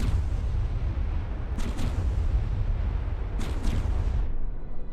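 Ship guns firing in a video game fleet battle, two pairs of sharp reports standing out against a constant heavy rumble of combat noise, with no voices.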